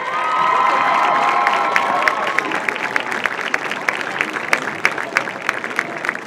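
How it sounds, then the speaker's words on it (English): Applause and cheering for the teams and student athletes at a women's soccer tournament championship ceremony, a loud crowd clapping steadily with scattered shouts, strongest at the start and thinning slightly toward the end. "Let's give a round of applause to all the teams and student athletes who participated in this year's tournament"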